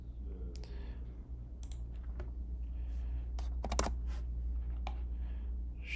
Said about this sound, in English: As you can see, I'm just typing in the settings.